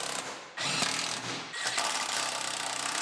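Electric impact wrench tightening fender bolts on a Pontiac Grand Am GT, a few loud rattling hammering bursts close up, the second and third running longer with brief pauses between them.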